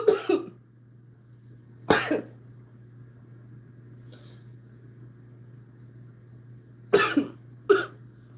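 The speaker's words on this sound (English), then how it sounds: "while I'm coughing" A person coughs in short harsh bursts, a pair near the start and another cluster near the end, close and loud over a quiet background hum.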